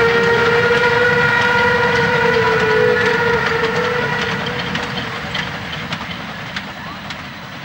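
A German DB class 086 steam locomotive pulling a four-car train toward Burgthann, with a loud sustained whistle over the chuffing and rolling wagons, fading gradually as the train moves away.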